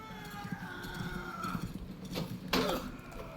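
Horse whinny and hooves from a video game, a short neigh followed by soft clip-clop and a sharper burst near the end, heard faintly against background game sounds.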